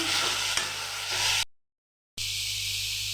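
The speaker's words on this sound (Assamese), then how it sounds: "ভাজি ল'ম।" Kolpochola, seasoned with salt and turmeric, fries and gets stirred in a pan, giving a steady close sizzle broken by a brief silent gap and then an even, duller hiss.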